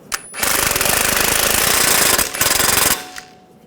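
Impact wrench snugging a bolt on a Ford Escape front strut and spring assembly, one loud, close, rapid hammering burst lasting about two and a half seconds with a short stutter midway.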